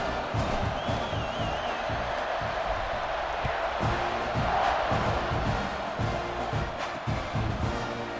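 A packed football stadium crowd roars continuously after a touchdown drive, a dense wall of cheering and whoops with a few whistles rising over it.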